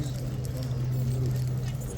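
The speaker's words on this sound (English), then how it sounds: "Here's a trumpeter's horse, folks." A trumpeter's horse at Horse Guards clops its hooves faintly, soft irregular steps under people talking and a steady low hum.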